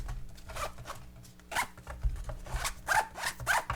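Several quick zipper pulls open an Olight EDCS pouch, rasping strokes in uneven bursts, close and quiet, with faint rustling between them.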